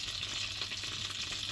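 Buttered mussels with garlic, seasoned with chicken powder, salt and pepper, being stirred in a pan: a steady close sizzle with soft scraping stir sounds throughout, no voices.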